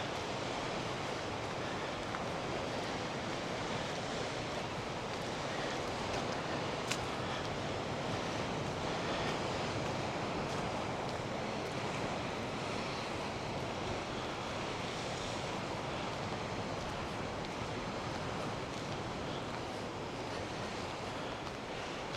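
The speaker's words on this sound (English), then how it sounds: "Just so relaxing watching the waves." Ocean waves break at St Ives in a continuous, powerful roar of surf, mixed with wind buffeting the microphone, holding steady for over twenty seconds with no talking.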